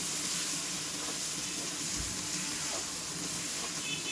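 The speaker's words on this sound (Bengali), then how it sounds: "তারপর এটাকে খুব ভালো করে নাড়াচাড়া দিয়ে কষিয়ে নিতে হবে।" A spice masala with cumin for a cauliflower roast sizzles and fries steadily in a pan as it is stirred, a continuous close hiss with faint scraping and no talking.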